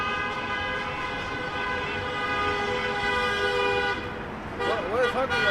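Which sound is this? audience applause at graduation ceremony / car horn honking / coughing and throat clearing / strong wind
car horn honking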